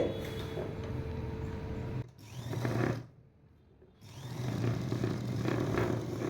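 A sewing machine stitches a blouse piece in a continuous mechanical whir, runs for about two seconds, pauses briefly, then resumes its steady motor drone close by.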